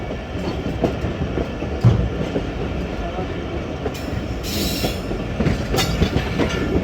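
The 14 Down Awam Express approaches Gujranwala at speed, its wheels clattering in a continuous, loud clickety-clack with brief squeals and bursts of hiss, close by and heard alone.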